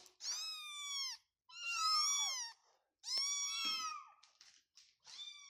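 A cat meows loudly several times in a row, drawn-out wavering cries with short gaps between them, close by and with no one talking.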